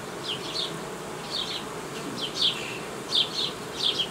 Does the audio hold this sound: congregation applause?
no